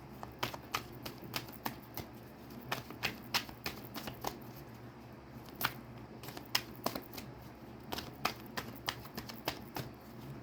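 Tarot cards are shuffled and pulled from the deck, giving soft, irregular papery flicks and taps at a fairly low level, with no voice over them.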